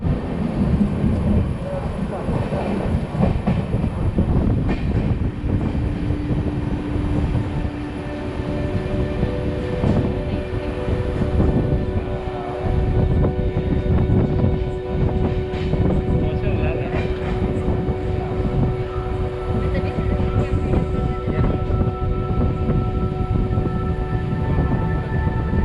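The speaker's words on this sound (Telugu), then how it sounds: "ఇప్పుడు మన ట్రైన్ వచ్చేసి వైట్ ఫీల్డ్ ప్లాట్ఫామ్ 2 మీదకి చేరుకుంది." A passenger train pulls in at platform 2 of Whitefield station in Bangalore. It makes a steady, loud rumble and rolling clatter with faint tonal hums that lasts throughout, and no voices are heard.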